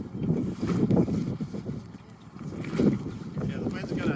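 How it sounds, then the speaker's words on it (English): Gusty wind buffets the microphone in low rumbling waves, rising and falling continuously with a faint outdoor background, while a sailboat is rigged. "it's a good windy day"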